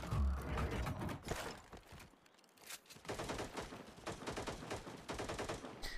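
Rapid gunfire bursts from the Soul Sniper rifle in the video game Cyber Hunter, loud and close, with a brief quiet gap in the middle before more sharp, crackling shots.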